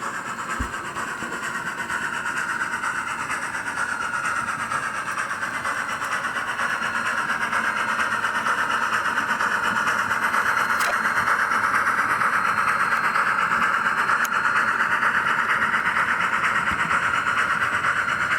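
A steady engine hum and rumble grows slowly louder over about eighteen seconds, with a couple of faint clicks, as a model train locomotive with sound pulls a heavy load past.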